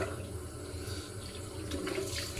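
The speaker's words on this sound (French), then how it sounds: "Ah voilà, l'eau tiède, c'est quand même plus agréable que de l'eau froide." Lukewarm water runs steadily from a tap for rinsing, a continuous close hiss and splash that holds even throughout with no speech.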